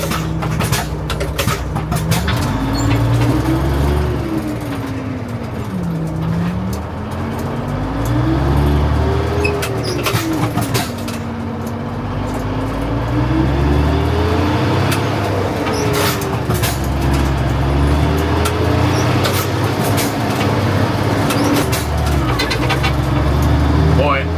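A used auction truck with a slightly rusty cab and good tires being driven, its engine a steady loud drone with pitch rising and falling through gear changes over about 24 seconds, with some talk over it.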